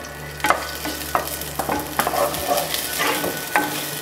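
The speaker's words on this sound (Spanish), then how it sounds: "Empezamos a sofreír el ajo. Enseguida lo que viene siendo la cebolla." Garlic and onion sauté in a pan, a steady sizzle running throughout with repeated clacks and scrapes of stirring at irregular intervals, close and fairly loud, no voices.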